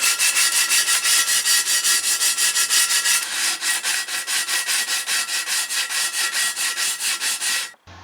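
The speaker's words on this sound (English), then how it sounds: "I just have some 120 grit sandpaper here, and I'm just going to start sanding where it's curved." Hand sanding curb rash on a wheel rim with 120 grit sandpaper, a rapid rhythmic back-and-forth scrubbing, close and loud, with a brief change in stroke partway and a sudden stop near the end.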